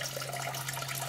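Water running steadily out of a washer line into a laundry tub at an off-grid setup, a continuous close splashing flow with no talk.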